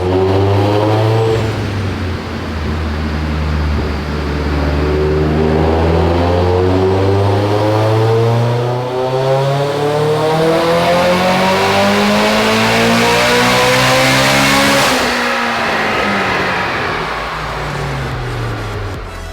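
A Mitsubishi Lancer Evolution X engine revs loudly and steadily on a dyno, its pitch climbing for a long pull near 400 wheel horsepower before dropping off and climbing again.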